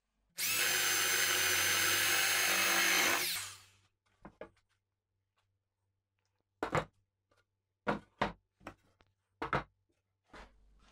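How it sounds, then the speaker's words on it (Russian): A power drill with a spade bit bores a 25 mm hole in wood while building a beehive, a loud steady whine lasting about three seconds, followed by several short knocks and scrapes. "Отверстие будет диаметром 25 мм. Я буду делать перьевым сверлом."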